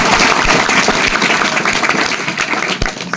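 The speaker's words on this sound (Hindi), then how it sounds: "एक बार पुनः जोरदार ताली बजाएंगे सर के लिए" Loud, steady applause from a crowd at a farewell party, dense clapping filling the whole stretch without a break.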